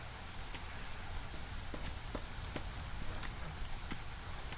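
Steady drizzle in the Against The Storm city-building game, a soft continuous hiss of fine rain with scattered light droplet ticks, quiet and even throughout.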